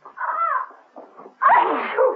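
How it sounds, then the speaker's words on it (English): A single sneeze with a short, breathy build-up followed by a louder, forceful burst, heard close and alone. "she was overcome with an irresistible desire to sneeze"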